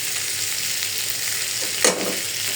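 Chickpeas frying in a pan with thick chunks of potato, a steady close sizzle running throughout, with a brief louder scrape of stirring near the end.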